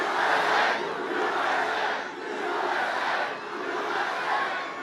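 A large crowd at a campaign rally in Michigan cheers and shouts in loud, swelling waves, with no speech over it.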